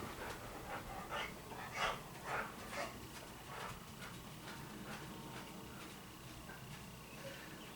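A dog named Richie panting and whimpering at home, quick breathy pants and faint whines repeating in uneven bursts, soft and close against low background noise.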